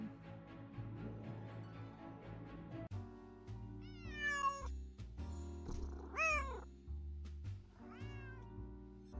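A cat meows repeatedly in the Nancy Drew video game. Several clear, rising and falling cries sound close and are separated by pauses, over a low, steady game music bed.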